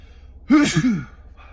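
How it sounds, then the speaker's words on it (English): A single sharp, breathy sneeze erupts close up after a brief quiet intake, then fades. "Hold on, guys, I gotta sneeze."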